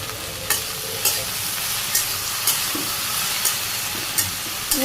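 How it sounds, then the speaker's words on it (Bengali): Sliced okra fries in a pan with turmeric, salt and chilli powder. It gives a continuous loud sizzle, broken by regular stirring scrapes about every half second. "ঢেঁড়স ভাজতে থাক, আমি একটু অল্প নেড়ে নেড়ে দিই।"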